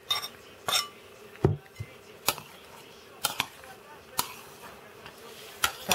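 A spoon clinks against a bowl while chopped eggs are stirred together with green onion and melted butter, giving sharp scattered taps and scrapes over a faint background, with a voice speaking briefly.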